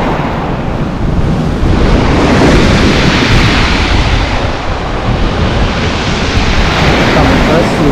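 Sea surf on a beach in December at Lazarevskoye, Sochi, a loud continuous wash of waves mixed with heavy wind rumble on the microphone.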